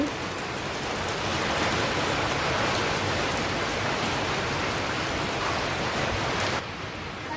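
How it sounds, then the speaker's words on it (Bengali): Heavy, steady rain pouring down, a dense hiss that holds evenly before easing slightly near the end. "এত দূরে বৃষ্টি নামছে"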